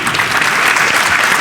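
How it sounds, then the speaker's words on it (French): An audience at an architecture round-table event gives the panelists a loud, dense round of clapping, steady and close throughout. "Vous pouvez encore une fois les applaudir."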